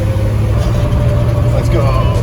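A Chevy square body truck with a stick shift rumbles with a steady, close, low engine drone, overlaid by a person talking.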